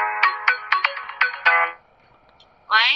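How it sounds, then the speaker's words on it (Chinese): A phone ringtone plays loud and close while a call is placed to a freight station, a rapid repeating electronic melody that stops and is followed by a brief voice answering. "你看我现在给货站给打个电话啊，咱们听听"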